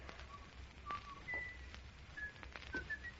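Thin, faint tonal whistling from a killer in a radio murder drama, in scattered short notes, wavering and slow, with quiet thumps and room hiss underneath.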